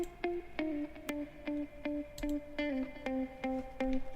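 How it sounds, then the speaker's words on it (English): Ambient hip hop beat with FabFilter Saturn saturation adding grit: a steady, evenly spaced pattern of sharp percussive hits over a sustained tonal line, quiet and looping with no voices. "Fab Filter Saturn just to give it some grit."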